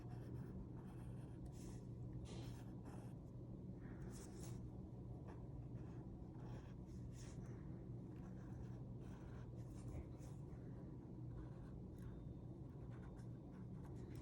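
Pencil tracing over a stencil taped down to a board, a soft continuous scratchy scribbling in short strokes, close and quiet, running the whole time beneath a low steady background hum.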